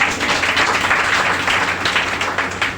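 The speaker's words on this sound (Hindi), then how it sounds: "इनके लिए एक जोरदार तालियां" Loud, dense applause from people gathered at an indoor meeting welcoming newcomers, a steady wash of many hands clapping together for a few seconds with little talk over it.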